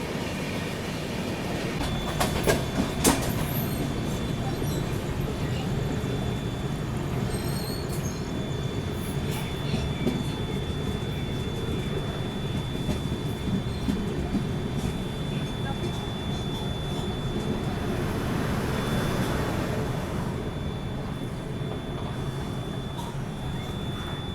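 Mumbai Rajdhani Express rolling slowly behind another train, a steady broad rumble of wheels and carriage noise with faint clicks and a thin high whine, continuous and moderately loud throughout.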